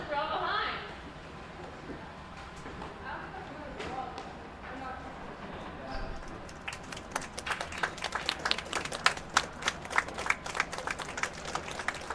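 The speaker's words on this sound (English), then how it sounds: "So applause in the warm room for our 2 teams" Scattered applause in the warm room at a junior curling bonspiel. Quiet chatter comes first, then sharp, uneven claps from a small group pick up over the last few seconds.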